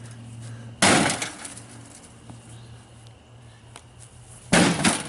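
Glass breaks twice during a test with aluminum foil and fireworks in a microwave: two loud crashing bursts several seconds apart over a steady low hum.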